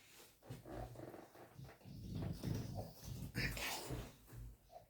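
A dog in a room makes whining, whimpering noises in repeated short bursts, close by, with a person talking over and between them.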